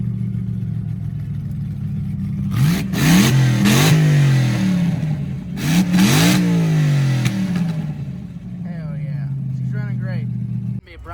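An LS-swapped Ford Crown Victoria with a 4L60E transmission idles in a burnout line, then its V8 is revved hard twice in quick bursts, the engine note rising and falling loudly up close before settling back to a rough idle.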